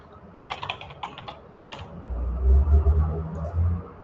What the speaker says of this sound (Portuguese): E estando aqui, você vai digitar Signal.